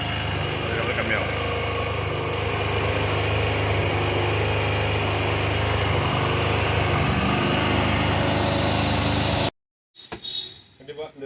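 Motorcycle engine idling steadily while being checked for an engine seize problem, a continuous loud rumble that stops abruptly near the end, after which a few faint sounds follow.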